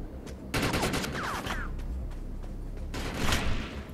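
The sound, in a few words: gunfire in the video game Defiance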